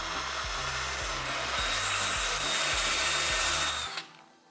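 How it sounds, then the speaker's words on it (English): A wire brush scrubs around the edge of a dryer door, a rough continuous rasping hiss with rhythmic back-and-forth strokes, close and steady before stopping abruptly near the end. "Wire brush around the edge."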